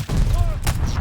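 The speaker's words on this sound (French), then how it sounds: "Mitrailleuse à 1 heure!" Machine gun fire in Call of Duty Vanguard, a dense, loud burst of rapid shots packed into one second alongside a short tonal whistle, with no talk over it.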